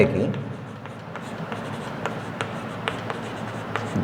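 Chalk or marker writes on a board during a Class 10 maths lesson, giving rapid scratchy strokes and light taps in an irregular rhythm.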